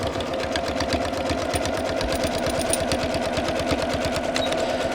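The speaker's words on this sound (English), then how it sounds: "you could do a decorative stitch if your machine does those, or you can just do another 1 or 2 straight lines" A sewing machine stitching straight lines on a ring sling hums and chatters in a fast, steady rhythm, close and continuous throughout with no pause or talk.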